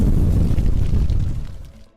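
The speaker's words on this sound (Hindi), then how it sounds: "तभी अचानक चांदपोल इलाके में जोरदार धमाका हुआ।" A heavy, deep rumbling bomb blast in the Chandpole area of Jaipur that roars loudly and then fades away over a couple of seconds.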